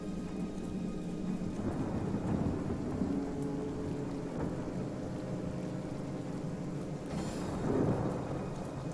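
Steady rain pours in a fantasy role-playing game as thunder rumbles repeatedly, with a louder, closer crack and roll near the end; no voices.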